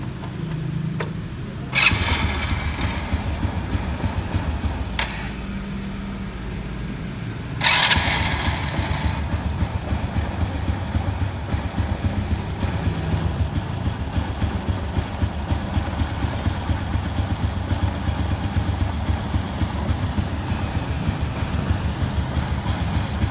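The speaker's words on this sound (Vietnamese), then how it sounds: "giờ nổ máy anh em nghe thử tiếng máy" A 2013 Honda Wave Alpha motorcycle engine cranks and catches twice, then settles into a steady, rumbling idle that runs on evenly and fairly loud.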